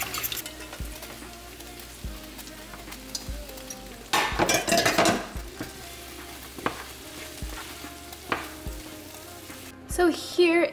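Noodles and tempeh frying in a pan, a steady close sizzle broken by periodic stirring clanks of a utensil against the pan, with a louder burst of stirring midway and near the end.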